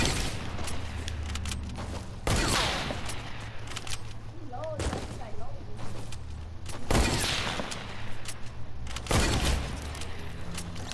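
Sniper rifle shots in a shooting video game, three or four loud sharp cracks spaced a few seconds apart over constant game ambience and mechanical noise, with players talking throughout.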